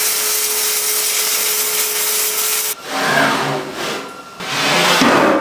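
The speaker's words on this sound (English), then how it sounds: "That is a lot of welding, folks." Steady, harsh broadband crackle of welding on a steel reverse flow BBQ smoker build, continuous for about three seconds and then breaking into uneven bursts of hiss and grinding, loud and close with no talk.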